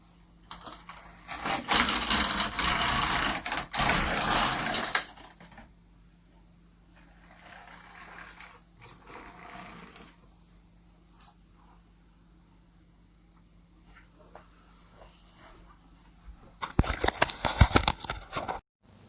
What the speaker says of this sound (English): the homespun yarns are running okay in the carriage